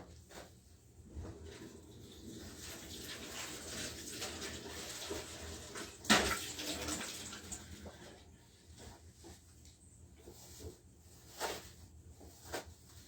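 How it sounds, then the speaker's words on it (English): A baking pan rinsed under running water at a sink, with a steady wash of water, small clatters and one sharper knock midway, all close by and fairly soft. "So after rinsing the baking pan"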